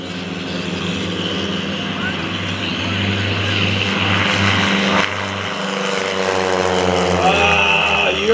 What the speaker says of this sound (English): On board that Cessna 182 jump aircraft, which is now to our left and heading behind us, we have John Norregard as the pilot.